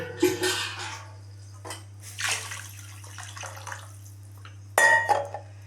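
Water poured three times from a measuring vessel into a cooking pot of vegetables for wheat rava kichadi, each splashing pour separated by a quiet pause, with a low steady hum underneath.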